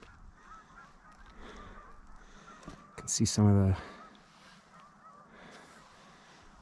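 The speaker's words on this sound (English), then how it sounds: "that's the roost over there. The geese and the goslings." Geese and goslings honk at a roost during a hike at The Cove in Spokane, Washington: a short burst of loud honking mid-clip, with someone talking before and over it.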